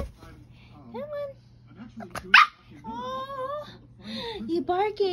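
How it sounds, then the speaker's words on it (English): A nine-week-old tricolor corgi puppy gives a few short, high yips and barks with whimpers between them, close by, while someone talks excitedly over the sounds. "You're barking at 9 weeks?"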